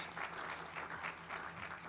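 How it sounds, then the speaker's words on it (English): A faint round of applause, steady clapping from a crowd heard at a distance for a couple of seconds. "Let's give Dr. Udoka another big round of applause"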